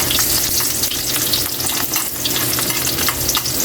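Carrots and potatoes fry in hot oil for pork estofado, a loud, dense, steady sizzle with no voices.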